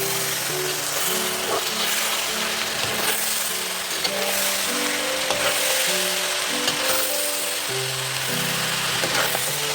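Steady sizzling of carrots frying in a pan, with occasional scraping and stirring clatter over the hiss.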